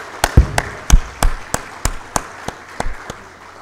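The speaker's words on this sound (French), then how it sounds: "j'aimerais tous d'abord qu'on puisse l'applaudir avant de commencer ma présentation" Scattered hand claps from a small audience at a medical symposium on cardiovascular risk prevention, about a dozen distinct claps in an uneven rhythm, fairly close and moderately loud, with no voices over them.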